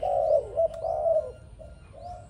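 A young Malaysian spotted dove, about six to seven months old, coos in a short series of soft, close calls with brief pauses between them.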